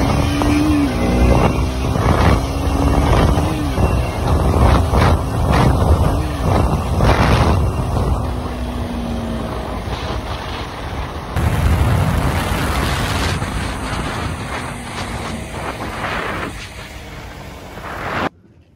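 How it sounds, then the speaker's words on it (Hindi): A new motorbike ridden on Diwali, the engine revving and roaring loudly over strong wind buffeting across the whole stretch, with surging pulses early on and a steadier drone later before an abrupt cut. "अभी बाइक को स्टार्ट करते हैं एंड आपको थोड़ा इसका पावर आपको फील कराते हैं"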